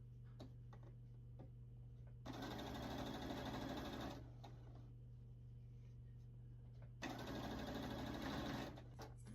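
A sewing machine stitches quilt pieces together for a Peppermint Starlight quilt, running in two steady whirring bursts of about two seconds each, separated by quieter pauses over a constant low hum.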